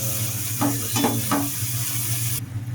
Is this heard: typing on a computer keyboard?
no